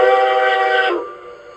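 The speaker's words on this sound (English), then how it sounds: "the short whistle." A short steam whistle from an LGB model mogul locomotive with a Zimo sound decoder blows one steady, loud, harmonic blast of under a second, then cuts off into a faint fading tail.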